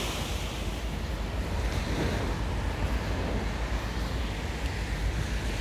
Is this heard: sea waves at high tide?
yes